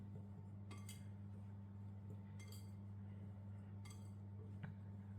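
A spoon mixes potato starch, salt and baking powder in a bowl for a gluten-free, lactose-free peach almond tart. A few sparse, soft clinks sound against the bowl over a low, constant hum.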